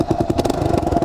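Motorcycle engine running close by, a steady pulsing low chug with rhythmic firing throbs over its short span, no voices over it.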